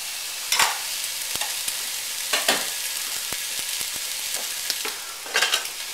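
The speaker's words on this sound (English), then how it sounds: "We're going to stir these to get them coated in the oil." Onions and fennel sizzle in oil in a pan as a spoon stirs them, a continuous close hiss broken by intermittent scraping swishes and sharp utensil taps against the pan.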